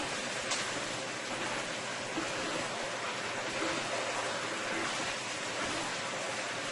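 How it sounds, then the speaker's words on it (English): Steady, dense crackling sizzle of chicken frying in a pan, constant and broadband throughout with no talking. "This is frying up so nicely here."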